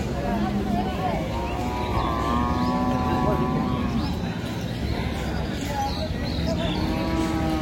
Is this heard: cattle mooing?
yes